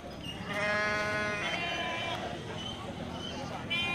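Sheep at a crowded animal market in Geurugok, several loud wavering bleats close by, one long call followed by shorter ones, over a background murmur of people.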